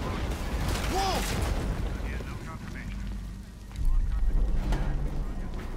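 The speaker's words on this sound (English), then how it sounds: "Reports of multiple explosions." Explosions and gunfire-like bursts in the Marvel's Spider-Man video game during a crime alert, a dense rumbling barrage with a louder boom near the end, mixed with game voices.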